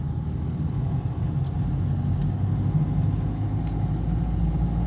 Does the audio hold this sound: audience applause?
no